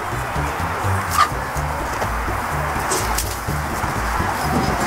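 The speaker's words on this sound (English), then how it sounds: "Just beside the pumpkin area are chickens." Chickens clucking softly in a pen beside a pumpkin patch at an autumn corn maze farm in Maryland, with a brief sharp call near the start over steady outdoor background noise.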